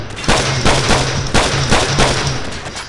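Gunfire from Call of Duty 4: Modern Warfare, rapid loud bursts of automatic shots with short pauses between volleys, filling the whole stretch up close with no talk.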